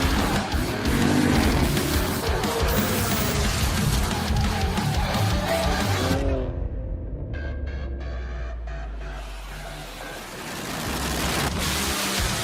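Race cars in an iRacing NASCAR-style sim race spin out with wailing tire squeals over roaring engines, then the racket cuts to near silence before engine noise swells back in.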